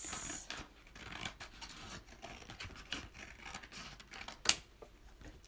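Scissors snipping through a thin paper strip for a handmade paper flower, a run of soft close crisp cuts and rustles with one sharper snip near the end, no talking.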